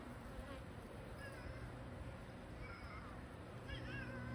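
A dense, steady drone of a bee swarm buzzing around a hive entrance, constant and close, with faint higher whines drifting over the swarm's hum.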